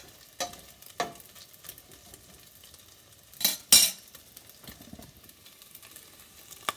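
Bacon frying in a pan for gravy, a soft steady sizzle with a few sharp scraping or stirring clatters, the loudest burst near the middle, heard close with no talking.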